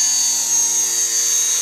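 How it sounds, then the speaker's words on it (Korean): A helicopter flying overhead makes a steady, loud, continuous rotor and engine drone with a high whine, constant through the whole stretch, with no talk. "날씨 때문에 근데 헬기가 잘 안 찍힌다"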